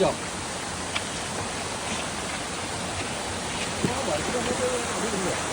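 A river near Mankayam waterfalls in Brimore, Trivandrum, rushes in a constant broad hiss of flowing water, with a faint voice briefly audible beneath it.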